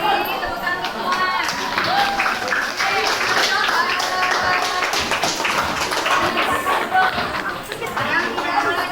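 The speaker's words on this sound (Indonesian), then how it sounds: "Tepuk tangan semua." Applause in a classroom or school session, where scattered hand claps mix with lively chatter and children's voices, continuing at a steady level throughout.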